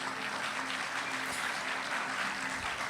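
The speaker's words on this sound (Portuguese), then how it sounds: "Você pode recebê-la com uma salva de palmas" Continuous audience clapping welcoming a guest at a church youth service, dense and even for a few seconds beneath a faint steady hum, with no voices over it.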